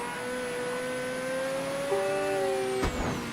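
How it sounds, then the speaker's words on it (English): A car engine drones steadily in the Mafia III video game, with a sustained tone that shifts pitch slightly as the car drives and turns, then cuts off abruptly near the end. "This car doesn't like to turn too often."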